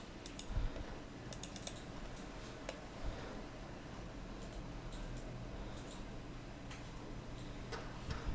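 The Shift key and other keys are pressed on a computer keyboard while working in Photoshop, giving faint, scattered clicks and ticks in a quiet room.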